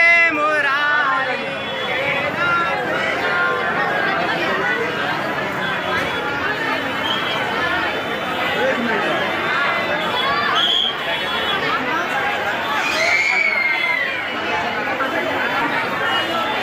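A dense crowd murmurs and chatters inside Gauri Gopal Ashram in Vrindavan, with many overlapping voices forming a steady, loud babble throughout.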